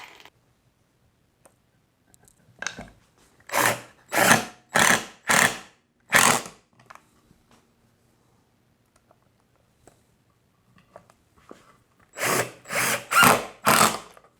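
Drill driving the same screw into pocket holes cut with a Milescraft PocketJig100 and a Kreg MiniClip, with two loud runs of short stuttering bursts, four or five pulses each, separated by quiet.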